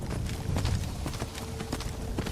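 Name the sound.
summoned horse Arvak galloping in Skyrim video game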